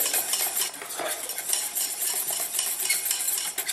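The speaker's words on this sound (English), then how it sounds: "Stir it on low heat, okay, till it becomes thick." Pastry cream for a mango custard pie stirred continuously in a pot over low heat, a close, busy rhythm of utensil scraping and clinking against the pot.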